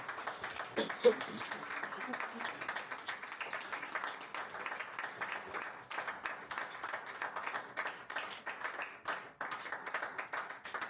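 A church congregation claps and acclaims God during a sermon, a steady dense wash of hands and raised voices that fills the whole stretch at even strength.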